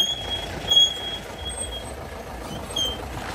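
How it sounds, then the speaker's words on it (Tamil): A jeep engine rumbles on a steep off-road trail at Kolukkumalai, a steady low drone with slight surges, a few faint high beeps above it and no talk. "வா அடுத்த ஜீப் வருது"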